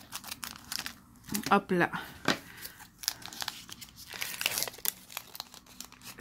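A Pokémon XY Evolution booster pack wrapper being torn and crinkled open by hand, with brief crisp ripping and rustling bursts that come and go under a man's French speech.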